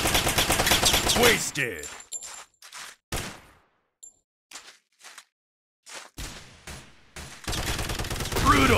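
Gunfire in an Android first-person shooter game, with bursts of rapid shots and single sharp cracks separated by short silences, loud and close, and a game announcer voice calling out between the shots.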